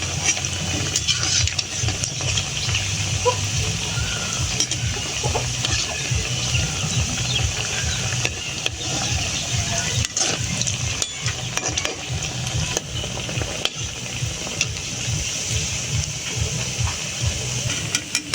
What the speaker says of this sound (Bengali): এবার লাল লাল করে পিঠাটি ভাজতে হইব